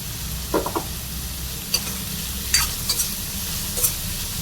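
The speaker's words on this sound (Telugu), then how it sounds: "కొద్దిగా సాల్ట్ వేసుకొని ఫ్రై చేసుకోవాలి పచ్చిమిర్చి చేదు కాకుండా ఉంటుంది ఆనియన్ మంచిగా వేగుతుంది" Onions and green chillies fry with salt in a pan under a constant close sizzle, with a few soft stirring scrapes and clicks scattered through.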